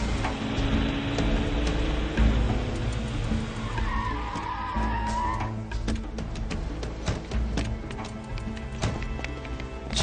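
A car brakes hard and its tires skid and squeal for several seconds on the road before it stops. The noise stays loud and fairly close, with a low engine rumble underneath.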